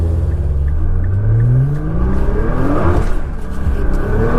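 A 2014 Nissan GT-R engine pulling out of a garage, loud and close, with rising and falling revs in smooth sweeping tones over a deep rumble.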